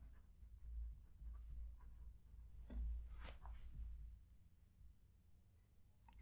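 A Wing Sung 3008 fountain pen with a fine nib and Noodler Heart of Darkness ink scratches faintly across paper in short, soft strokes, close and quiet over a low background hum.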